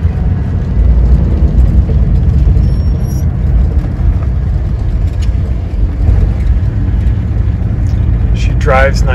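A 1941 Cadillac Series 62 convertible sedan driving along, steady low engine and road rumble filling the cabin with constant loudness, a brief higher squeal near the end.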